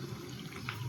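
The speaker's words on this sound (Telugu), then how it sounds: "వాటర్ పోసేసుకోవాలి." Water pours steadily into ragi (finger millet) flour in a kitchen pot, a soft continuous trickle heard up close with no speech.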